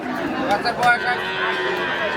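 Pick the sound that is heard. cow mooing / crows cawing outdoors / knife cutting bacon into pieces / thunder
cow mooing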